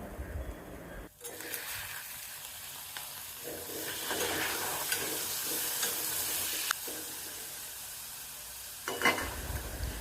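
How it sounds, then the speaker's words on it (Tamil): Onions and tomatoes are sautéed in a pan for semolina kichadi, a steady close frying sizzle with spatula stirring scrapes and a louder clatter near the end, heard without talk. "வெங்காயம் இந்த அளவுக்கு செவந்ததுக்கப்புறம் தக்காளியும் சேர்த்து வதக்கணும்."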